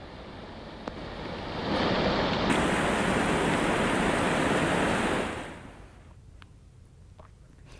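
Floodwater rushing through a swollen river after heavy rain in Gujarat, a steady broadband roar that swells loud in the middle, holds, then eases back to a quieter wash with no voices.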